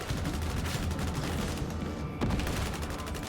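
An autogun in the game Darktide lays down suppressing fire, a dense, continuous stream of rapid gunshots at close range that barely pauses for about three seconds, with no voices.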